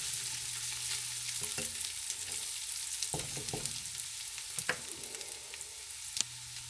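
Onions fry in a pot on the stove for a pork chops and cabbage dish, producing a soft, steady sizzle punctuated by a few stirring clicks and scrapes, close but fairly quiet, without talk.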